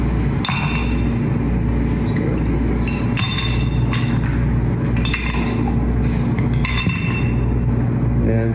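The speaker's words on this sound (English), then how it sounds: "I'm doing this, putting this in a rocks glass." Drink preparation in a rocks glass, with a series of sharp glass clinks and knocks scattered over a constant low rumble, and a voice talking throughout.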